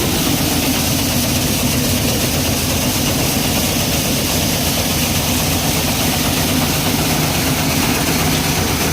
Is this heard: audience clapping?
no